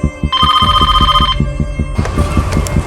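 A telephone rings in a crime drama scene, with a loud electronic trilling ring, a short pause, then a second ring, all over a pulsing, throbbing low music bed.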